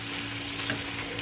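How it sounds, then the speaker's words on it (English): Onion frying in a pan, a short steady sizzle heard alone, ending in a faint clink. "Now I add my onion, and I want to let that onion cook pretty good"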